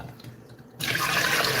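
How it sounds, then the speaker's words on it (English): Rice being rinsed by hand in a bowl of plain water, a soft swish that gives way to a louder steady rush of running water partway through, with no talking. "I'm washing this rice. Washing it around."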